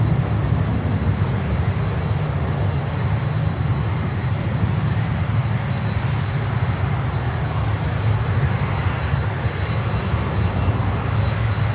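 A LATAM Boeing 767-300 airliner passes near an airport, its jet engines a loud, steady, broadband roar that holds constant for about twelve seconds with no voices.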